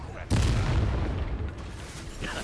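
A Confringo fire spell in the video game Hogwarts Legacy bursts into a loud, booming explosion that rumbles on for about two seconds, with a voice faintly mixed in.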